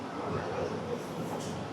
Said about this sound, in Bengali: এই যে এই ট্রেনটা করে এলাম